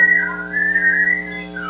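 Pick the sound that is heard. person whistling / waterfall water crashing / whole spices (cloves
person whistling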